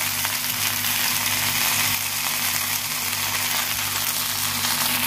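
Ginger, turmeric and chili powder frying in a pan, a steady bright sizzle with a constant hiss and a faint low hum beneath, close and continuous, without speech.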